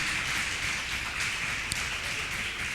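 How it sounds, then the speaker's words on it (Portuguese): A church congregation on its feet at a healing and deliverance service, clapping hard together in a dense, steady wash of applause with a hiss of crowd noise and no clear individual claps. "Fiquem de pé, aplaudam o nome de Jesus. Aplauda com força, que é para Ele."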